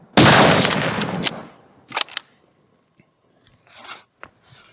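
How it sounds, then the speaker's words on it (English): A gunshot rings out during an outdoor bear hunt: one loud close blast that decays over about a second, followed by a few fainter clicks and rustles, with no talk. "Shoot him again."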